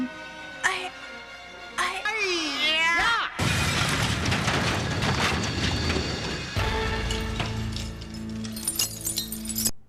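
Glass shatters with bright crashing and tinkling in an animated film, following whooshing and swooping effects, then a sustained clattering crash with music beneath.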